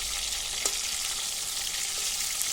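Rui fish pieces fry in hot oil in a pan, giving a steady close broadband sizzle with a couple of faint clicks from the fish being turned, no voices.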